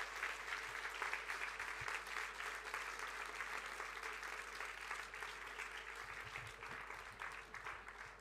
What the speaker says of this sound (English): Give her a warm round of applause.